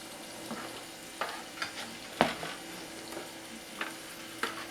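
Shrimp fry in a pan for shrimp fried rice, a soft sizzle broken by several distinct scraping clatters of stirring and flipping spaced through the clip, close and fairly quiet.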